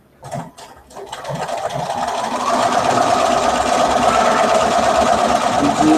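A sewing machine topstitches a T-shirt, starting with a few short bursts and then running in a steady, fast, close mechanical whir for several seconds.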